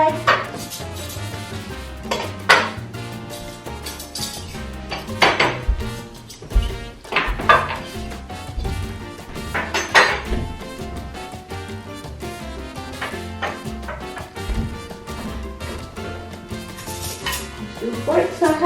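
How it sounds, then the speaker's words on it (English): Metal knives and forks clink and rattle against plates and china while a Thanksgiving table is set, giving repeated close, bright taps and jingles with occasional light talk. "Now to silverware. We put our knives, of course, on the right side."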